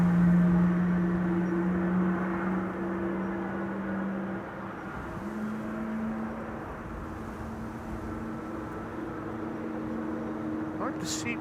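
Aircraft engine spooling up at Amsterdam Schiphol Airport, a steady distant droning hum with sustained tones that shift in pitch, heard under background noise.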